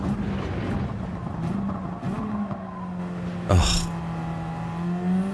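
A small Suzuki race car in a racing video game, its engine droning at a steady pitch that rises and dips through gear changes, with a sharp burst near the middle; a man briefly exclaims over it.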